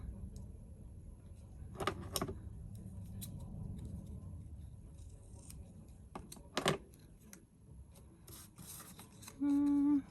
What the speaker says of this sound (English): Let me just fussy cut that a little bit better.